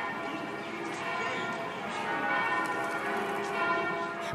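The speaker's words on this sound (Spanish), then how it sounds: "sonaban las campanas de San Vicente de Paúl, una de las iglesias católicas de Jerusalén" Church bells of San Vicente de Paúl, a Catholic church in Jerusalem, ring with sustained overlapping tones at a moderate distance, mixed with city background noise.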